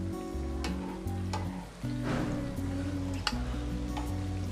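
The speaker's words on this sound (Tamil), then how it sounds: "இப்போது ப்ரெட்டை பொரித்து எடுத்தாச்சு" Bread fries in hot oil with a steady crackling sizzle, broken by a few sharp clicks and a brief quieter dip near the middle.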